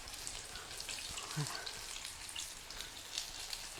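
Oil sizzles and crackles softly and steadily, with quiet pops throughout, as Korean fried chicken deep-fries in a pan, and a faint voice in the background.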